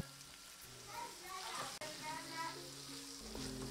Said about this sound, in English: And then added some garlic and ginger paste.